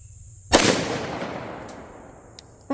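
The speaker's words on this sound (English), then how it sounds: "So 1 shot with the 40." A .40 S&W pistol fires one shot at a concrete block. A single loud, sharp crack is followed by a long, fading outdoor echo and a brief faint tick near the end.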